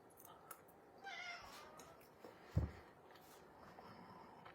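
Pet cats give a few soft, scattered meows in a kitchen, faint and somewhat distant against a quiet background.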